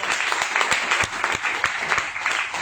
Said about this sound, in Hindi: मिस्टर रजत कुमार कर जी, उनके लिए मैं जोरदार ताली करूँगा।